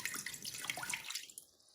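Water pours into a Ninja Foodi pressure cooker pot, a bright splashing stream heard up close that cuts off abruptly near the end.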